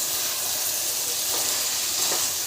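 Jengkol balado fries in a worn nonstick pan, a close, even, hissing sizzle of oil that carries on steadily with soft stirring and turning noises and no voices.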